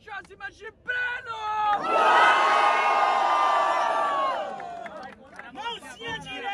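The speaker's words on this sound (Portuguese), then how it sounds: "Barulhos pra quem curtiu as rimas de Breno." A crowd at a rap battle final erupts in loud cheering and shouting for a couple of seconds, framed by a voice talking before and after the swell.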